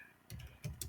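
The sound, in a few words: typing on a computer keyboard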